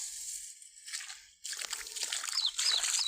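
Running water from an irrigation pump splashing and trickling steadily outdoors on a farm, starting softer then swelling into a fuller, continuous gush.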